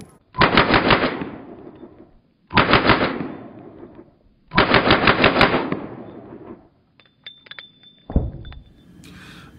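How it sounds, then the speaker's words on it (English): A Glock 18 machine pistol fitted with a muzzle brake fires three loud, sharp full-auto bursts of about a second each, separated by short pauses, followed by faint clinks and a final single thump. "I do have a nice video of me shooting a Glock 18"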